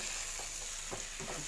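Shrimp sizzle steadily in a hot pan as they are stir-fried with salt and ground garlic. The frying hiss is constant, and a few soft scraping stirs cut through it.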